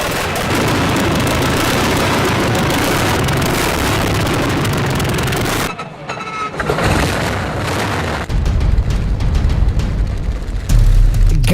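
A huge vintage engine fires up with a loud, rough, booming roar that fills the first half. After a brief dip it returns with heavy low rumbling and bursts of power.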